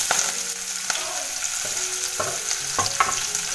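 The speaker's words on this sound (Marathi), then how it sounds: "आता चांगलं असं लाल करून घेते कांदा." Onion, garlic, bay leaves and curry leaves fry in hot oil in a steady close sizzle, with a few sharp clicks and scrapes of a spoon stirring through it and no one talking.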